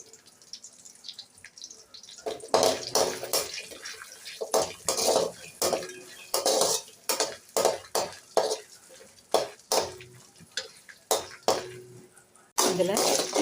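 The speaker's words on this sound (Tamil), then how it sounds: "பூண்டு ஒரு 10 பல்லு பூண்டு போட்டுக்கிறேன்." About ten garlic cloves go into a pan for a pirandai thuvaiyal and are stirred, giving a run of rhythmic scraping strokes with a light sizzle, close and fairly loud.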